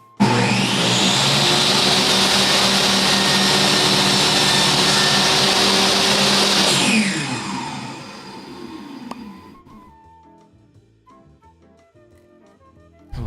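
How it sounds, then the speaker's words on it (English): A table saw cuts through wood in a woodworking shop with a loud sustained whine for about seven seconds, then the blade spins down and fades, followed by a few quiet handling clicks. "Table saw it is"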